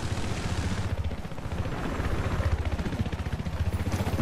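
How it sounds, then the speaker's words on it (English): Enemy helicopter in the video game Battlefield 4, a loud, steady rotor chop with rapid rhythmic pulsing over dense engine roar and battle noise, filling the whole stretch. "Alright, so there's an enemy helicopter."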